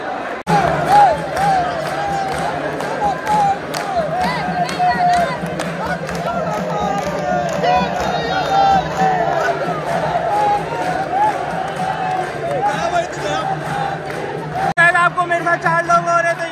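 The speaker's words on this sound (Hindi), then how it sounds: "बहुत भयंकर भीड़ है।" A huge crowd celebrating Holi at the Govind Dev Ji temple in Jaipur fills the air with dense, steady hubbub and scattered shouts, while someone talks close by over the din.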